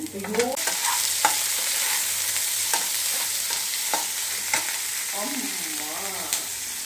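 Ginger, garlic, chili, onion and tomato fry in a pan for an egg keema curry, giving a loud, continuous sizzle broken by regular clicks and scrapes of a spoon stirring, close up with no talking.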